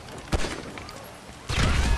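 Gunfire in the video game GTA V, with a single sharp shot early on, then a louder, sustained burst of shooting near the end, over steady game background noise.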